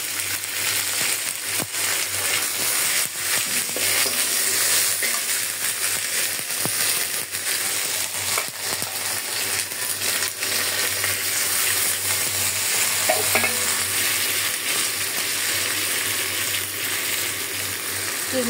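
Onion and garlic paste fries in oil with vegetables for a village-style rui fish curry, a long steady sizzle broken by scattered metallic scrapes and taps of stirring.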